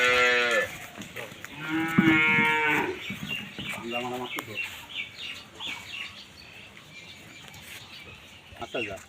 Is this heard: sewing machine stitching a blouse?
no